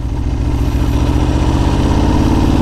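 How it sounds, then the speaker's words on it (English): A sportbike's engine runs loud and close as the rider lets out the clutch and eases onto the throttle in first gear, a steady pulsing drone that rises slightly, and no one talks. "Now I'm gonna let go of the clutch as I ease into the throttle."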